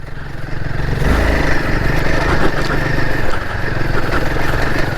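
Royal Enfield Himalayan 450 motorcycle pulling in third gear at about 20 mph on a UK trail, a loud, steady mid-pitched engine drone with wind buffeting, no clear talk.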